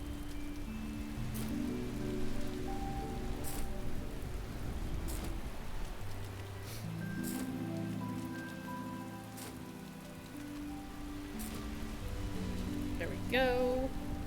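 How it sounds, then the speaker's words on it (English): Steady rain pours in the farming video game Paleo Pines, a continuous patter on surfaces that runs throughout, with soft game music tones and occasional light chimes over it. "it's raining right now"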